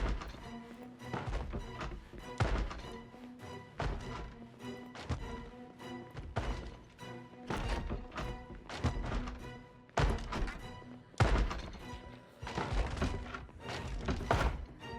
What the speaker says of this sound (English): there's probably some zombies upstairs banging on shit